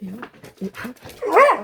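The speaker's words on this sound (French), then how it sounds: "ça c'est mon chien" A family dog lets out a short bark near the end, following a stretch of someone talking.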